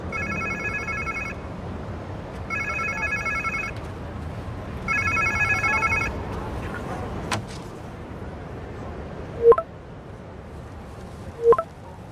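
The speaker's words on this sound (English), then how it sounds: "Sounds like somebody's phone." A phone rings inside the Marvel's Spider-Man 2 video game, three evenly spaced electronic ring bursts over a steady ambient game backdrop, followed by a couple of brief sharp clicks.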